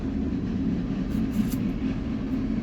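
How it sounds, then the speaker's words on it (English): A train rumbles past at a distance as a steady, low continuous roar with no talking. "Mind the train if you hear that out front. It's loud."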